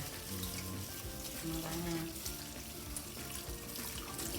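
Water poured over fish roe in a container to wash it, a close continuous splashing, gurgling flow with faint background voices.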